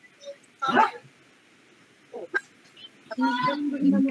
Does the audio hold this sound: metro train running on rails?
no